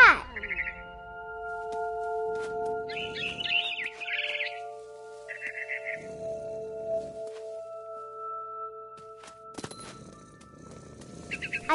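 In a video game, a barn swallow returning to her nest sends out several clusters of quick, high chirps, spaced apart over a sustained hum and low rumbles.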